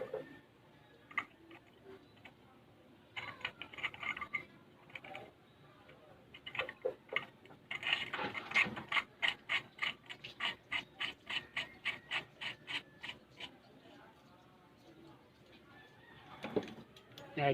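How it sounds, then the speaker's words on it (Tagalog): Fittings on a double burner gas stove being tightened, producing a series of quick ratcheting clicks in a steady rhythm, close but fairly quiet, with some scattered handling noise before. "Higpitan lang natin para hindi siya mag-leak."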